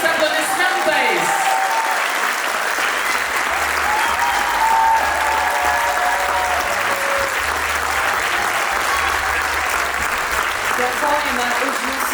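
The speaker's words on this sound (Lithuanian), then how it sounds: "Į sceną kviečiame choro įkūrėją Vidutį Normantą, pasitikime audringais aplodismentais." A concert audience at a children's choir's 30th anniversary gives loud, sustained applause as the choir's founder comes on stage, a dense, even roar of clapping lasting the whole stretch with faint crowd murmur beneath.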